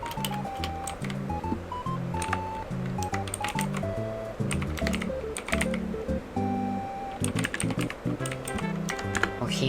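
Quick bursts of clicking computer-keyboard keystrokes during a late-night horror game session, close and crisp, set against tonal game music in the background.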